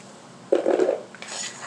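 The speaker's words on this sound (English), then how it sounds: "we're going to put this onion in this bowl" An onion drops into a bowl with a short clatter of dishes and light clinks, followed by a softer rustle, close and brief in a home kitchen.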